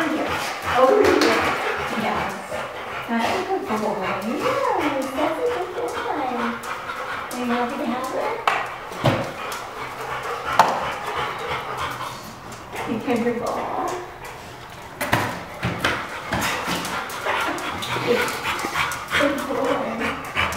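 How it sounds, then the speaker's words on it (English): Several excited, happy dogs bark, pant, yip and whimper nearly nonstop in an indoor office, with people talking over them. "Some happy dogs."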